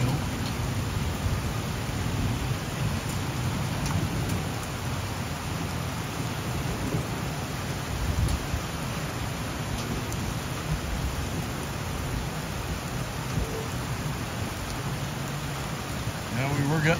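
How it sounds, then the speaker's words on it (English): Heavy rain with dime-size hail pelting down on a garden, a steady broadband wash that stays loud and even throughout, with a few sharper impacts and a voice murmuring faintly underneath. "We're getting like dime size hail coming down."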